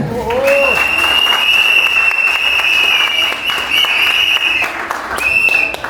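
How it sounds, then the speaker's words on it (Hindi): Crowd clapping at a corporate kickoff party in Chandigarh, loud continuous applause with a high sustained electronic tone or whistle running over it. "तालियां हो जाए।"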